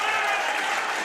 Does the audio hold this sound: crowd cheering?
yes